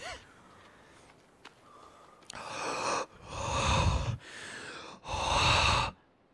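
A voice mimics the heavy breathing of a creature from the horror-survival game The Forest. After a quiet start come three loud, drawn-out rasping breaths, each about a second long, close to the microphone.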